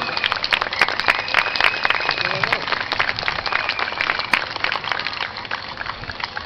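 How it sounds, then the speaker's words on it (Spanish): Audience applause at an outdoor school Flag Day parade and award ceremony in Bellavista, Callao, Peru: steady, dense clapping that carries on throughout, with voices and crowd murmur mixed in. "¡Un aplauso fuerte para él!"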